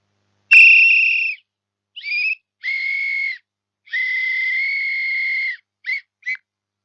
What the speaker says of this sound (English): It's the wind which is whistling.